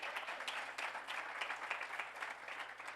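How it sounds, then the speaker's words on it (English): A crowd applauds at a 2020 Census Summit event, producing a brief, steady patter of many hands clapping together, fairly faint and heard without speech over it. "give Mayor Frank Scott another round of applause."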